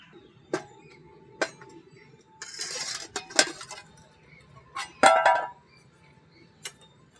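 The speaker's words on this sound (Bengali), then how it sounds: "এখন ঢাকাটা খুলে নেব নিয়ে দেখব কতটা হয়েছে" A lid lifted off a cooking pot of Bengali pea kofta curry, with a few sharp metallic clinks and knocks and a short rattle of metal against metal, close and fairly quiet in a still kitchen.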